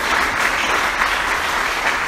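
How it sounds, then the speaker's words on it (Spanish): Loud, close applause from a church congregation during a Spanish-language sermon, a thick steady wash of many hands clapping with no talk over it. "Alguien aplauda a Jesús"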